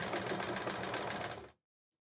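Domestic sewing machine running steadily through free motion quilting with a 1/4 inch foot, a continuous close whirring hum for about one and a half seconds that stops abruptly.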